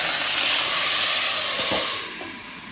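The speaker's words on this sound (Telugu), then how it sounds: "ఇందులో ఆయిల్ వేసి ఈ ఉన్న వెజిటేబుల్స్ మొత్తం దీంట్లో వేసేస్తున్నాను" Vegetables hit hot oil for sambar and sizzle loudly with a bright, steady hiss that fades slightly toward the end, heard close and with no talking.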